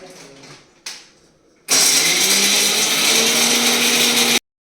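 Mixer grinder whirring loudly and steadily as it grinds roasted peanuts into powder, starting abruptly after a couple of short bumps and running close for several seconds before stopping dead.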